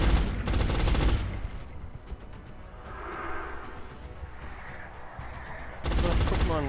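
Suppressive cover fire in XCOM: Enemy Unknown, loud sustained automatic bursts at the start and again at the end, with a quieter stretch of ambient game sound between and someone talking over it.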